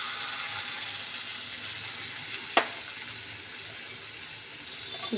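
A mustard, poppy seed and green chilli paste fries in a pan for aloo posto, making a steady close hiss of sizzling with one sharp clink of a utensil midway and no talking.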